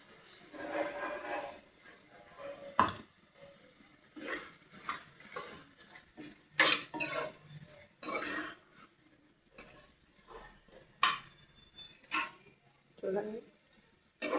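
Tomato puree goes into a pan and is stirred, giving scattered scrapes and light clanks of a spoon against cookware, with a person talking throughout.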